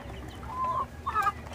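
Chicken and turkey chicks peeping in a brooder, a few thin high chirps in quick succession, fairly close over a low background hum.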